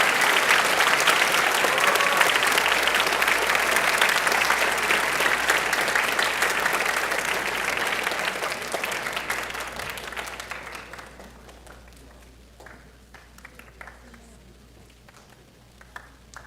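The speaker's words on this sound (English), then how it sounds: "let's give your volunteer parents a round of applause" Loud, sustained audience applause at a school Holocaust awareness event, dense and steady for about ten seconds before thinning into scattered claps and fading out.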